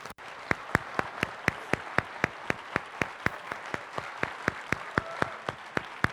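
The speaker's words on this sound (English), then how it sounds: "So if we give them a round of applause" Audience applause at a school chamber orchestra spring concert, with regular sharp claps standing out over a steady bed of clapping that runs evenly for the whole stretch at moderate level.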